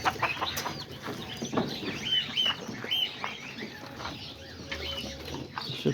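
Pigeons being fed coo and flutter nearby in a busy, continuous cluster of bird calls with scattered wing and scratching sounds.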